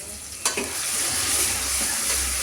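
Ginger and garlic frying in a pan with tomatoes, a constant bright sizzle with scraping stirs of a spoon against the pan near the start.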